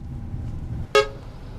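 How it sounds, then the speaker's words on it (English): A short, sharp car horn toot sounds once from inside a car on the road near Ri'an, China, cutting loudly over a low, steady rumble of engine and road noise. "We're in a car hitting the road again."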